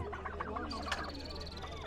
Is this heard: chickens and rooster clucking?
yes